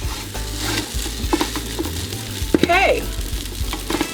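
About two tablespoons of unsalted butter sizzle in a pan while beef stroganoff is being cooked, giving a soft, steady frying hiss close by, dotted with a few light clinks and scrapes, and someone says one brief word.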